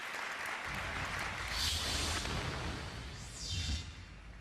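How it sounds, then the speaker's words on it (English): Convention audience applauding at a company's 50th anniversary event, a dense sustained wash of clapping that swells in two loud waves and keeps roaring throughout, with no speech over it. "The volume of that applause not only is gratifying to me"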